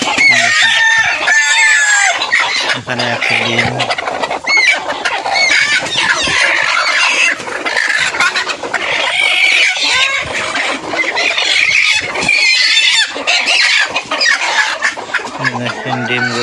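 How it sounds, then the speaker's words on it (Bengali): Desi hens cluck continuously in a farm house, some broody on eggs, with occasional louder squawks and a rooster-like call, close and busy, while someone speaks briefly. "মুরগিগুলো সবগুলো কুচা বসেছে"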